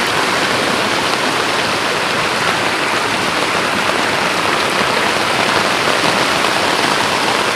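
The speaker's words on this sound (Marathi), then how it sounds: "पाऊस जोरदार सुरू आहे" Heavy monsoon rain pours steadily in Kokan around rice fields, a dense, loud, continuous hiss of drops on surfaces with no pauses and no voices.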